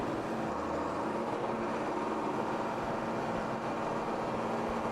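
A Tatra truck grinds up an off-road course, its engine a steady, close, loud rumble with broad mechanical roar and no break throughout.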